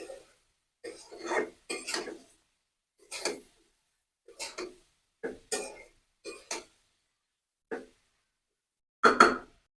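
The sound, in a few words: stirring radish and potato curry in a pot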